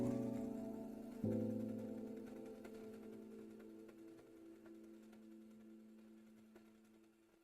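A sewing machine backstitching a utility jacket sleeve: a steady mechanical hum with a sharp restart partway through, running on and slowly fading, close and quiet, with no talking.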